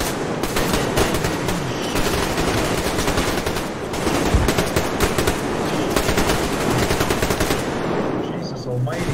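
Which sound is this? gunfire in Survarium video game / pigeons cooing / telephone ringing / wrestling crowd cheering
gunfire in Survarium video game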